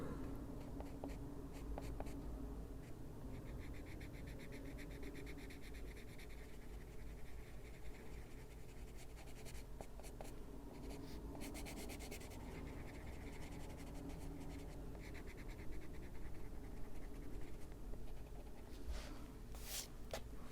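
A colored pencil, number 38, scratches steadily across paper in close, quiet, continuous strokes for a long stretch.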